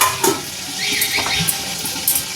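Pabda fish fry in oil in a covered pan, giving a loud, continuous close-up sizzle with crackling pops and faint scraping.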